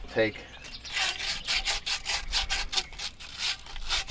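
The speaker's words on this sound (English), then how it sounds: "We're going to sand down this side and all the fittings real good with a piece of sand cloth." New copper pipe fittings are rubbed with sand cloth during installation of a Trane XR15 central air unit, a close, steady back-and-forth scrubbing in quick rhythmic strokes.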